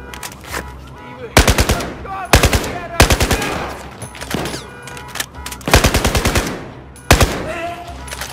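Automatic gunfire bursts from a Battlefield 4 firefight, several loud rapid volleys spread across the stretch with short gaps between them, as players shout excitedly over the shooting.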